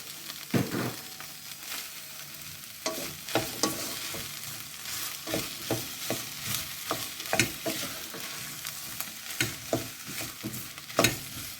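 Tomatoes go into a pan of Tuscan bean stew, frying with a soft continuous sizzle while a spoon stirs and scrapes in repeated irregular strokes, close and fairly quiet.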